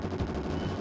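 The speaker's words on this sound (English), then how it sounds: "Missiles" Missile fire in the SNES shooter Bazooka Blitzkrieg, a brief quick stream of low, rattling retro blasts in fast succession, steady and moderately loud.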